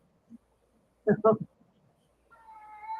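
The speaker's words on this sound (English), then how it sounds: "Oh, cats must be yowling again." Cats yowl briefly, with a short drawn-out call near the end, following a burst of nearby speech.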